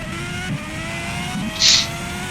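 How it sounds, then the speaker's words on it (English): Porsche V12 race car engine in a Malaysian V-Prix round, heard on board as a steady, loud engine drone with a brief brighter rise partway through. "Beautiful sound from that Porsche engine."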